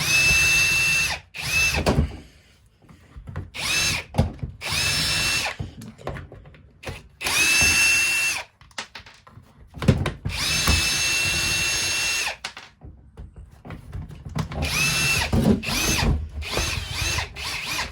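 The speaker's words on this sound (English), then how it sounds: "you just start removing all the screws in the back of this vacuum that you could possibly find" A power drill whirs in repeated short bursts with pauses between, removing screws from the back of a Bissell PowerTrack vacuum, a ratcheting clatter and handling noises filling the gaps.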